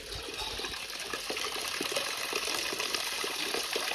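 Water runs steadily from a household tap into a vessel in a Konkan village home, a continuous close rushing and splashing flow with no voices.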